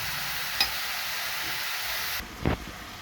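Chayote curry fries with a continuous crackling sizzle in a pan, close and steady, punctuated by two or three brief spatula scrapes and knocks as it is stirred, the hiss softening near the end.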